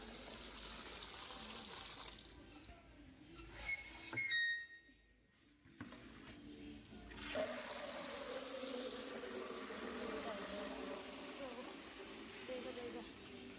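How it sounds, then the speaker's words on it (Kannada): Water running into a container at home, a steady rushing gush that drops away briefly near the middle, then resumes and carries on evenly to the end. "ನೀರು ತುಂಬಿಸ್ತಾ ಇದ್ದೇನೆ ಗೈಸ್."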